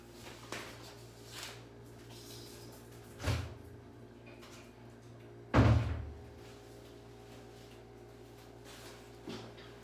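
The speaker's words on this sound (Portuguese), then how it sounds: "Eu vou só abrir a porta aqui para minha cachorra, bem rapidinho" A house door is opened to let a dog out, heard as a few dull thunks and knocks over a low steady background hum, one louder bump in the middle, no voices.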